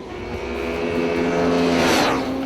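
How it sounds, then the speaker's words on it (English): A Ducati 998 superbike with a 90-degree V-twin four-stroke engine roars past, its deep rumble rising in pitch as it nears and then swells into a loud sweep before easing off. "thanks to its 90-degree V-twin 4-stroke layout, the 998 is still the best-sounding bike on the planet"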